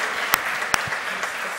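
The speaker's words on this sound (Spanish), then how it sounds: "Un aplauso para esta segunda mesa del día de hoy." Applause from a seminar audience after the second panel of the day at a legal conference on gender equality jurisprudence, a soft steady patter of clapping with a couple of sharper claps standing out.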